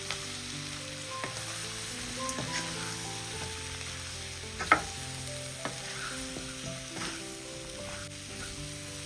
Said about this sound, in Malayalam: പാവയ്ക്ക് ഇട്ട് കൊടുത്തതിന് ശേഷം ഒന്ന് ഇളക്കി കൊടുക്കാം.